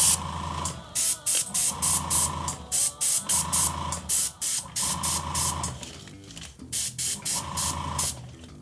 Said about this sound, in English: And I'll spray the black.